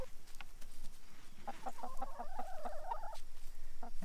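Hens on a small farm cluck in a run of short repeated calls over a steady outdoor background, fairly close and moderately loud.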